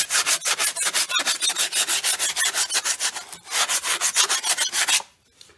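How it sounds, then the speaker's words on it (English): Steady back-and-forth sanding of a Corvette steering wheel being stripped of loose flaking material, close and loud, rhythmic rasping strokes for about five seconds before stopping abruptly. "once I get done sanding"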